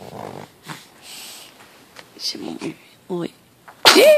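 A baby with a cold sneezes once, a short sharp burst near the end, after someone talks softly to her nearby.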